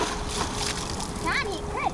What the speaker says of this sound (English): do not splash me like that